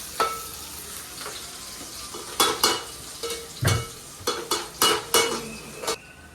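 Spoon stirring Manchurian gravy in a pan, a series of sharp scraping and clinking strokes against the metal, close and irregular, over faint background hiss.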